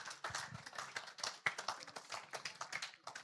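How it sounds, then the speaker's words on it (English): Modest applause from a small audience at a teen career talk, quiet scattered handclaps in an uneven rhythm, fairly distant and brief. "Give him a round of applause."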